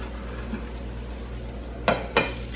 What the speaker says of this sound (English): Now you're going to put the lid in.